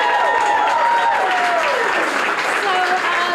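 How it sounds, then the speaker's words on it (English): Applause for Tracy at the opening of a children's cafe inside a children's museum, steady clapping from a small crowd mixed with overlapping chatter and high excited voices. "Let's have a round of applause for Tracy."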